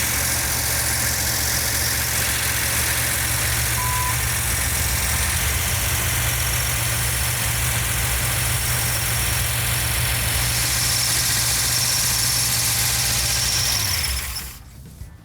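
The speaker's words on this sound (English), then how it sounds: "Those valves will quiet down." A Mopar 440 Six Pack V8 idles steadily with audible valvetrain ticking, a constant close rumble running for about fourteen seconds before cutting off abruptly.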